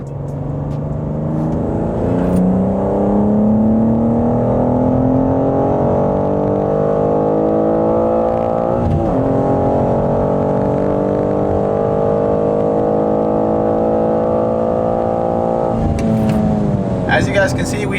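A stock BMW G87 M2 accelerates hard on a timed run, its engine note climbing steadily and continuously for the full stretch, loud and close, with a brief shift-like break midway and another near the end.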